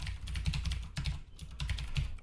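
Fingers tap quickly on a computer keyboard while filling in a sign-up form, a close, steady patter of keystrokes with a few brief pauses and no voices.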